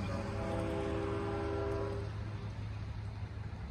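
A loud K5LL horn on a Long Island Rail Road DE30AC diesel locomotive blares in a sustained chord for about two seconds at Center Moriches, then fades into the rumble of the passing passenger train.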